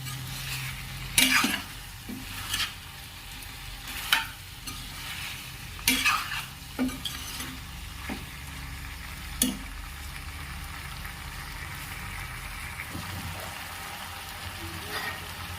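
A spoon scrapes and stirs chicken curry with potatoes and capsicum in a pan, a steady low sizzle underneath with several sharper clinks and scrapes against the metal, close and fairly quiet, no talking.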